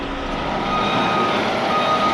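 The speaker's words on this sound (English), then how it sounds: "as our first truck's backing up" A truck backing out sounds steady reversing beeps in a repeating electronic pattern, fairly near, over a low engine rumble with no voices.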